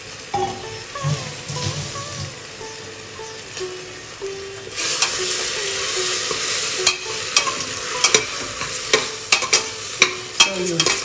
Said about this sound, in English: Mix it and fry it along with everything else in the gingery oil, so it gets infused with all the spices.